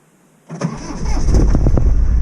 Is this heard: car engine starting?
yes